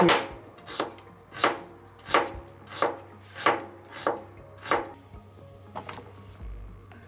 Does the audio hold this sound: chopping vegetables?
yes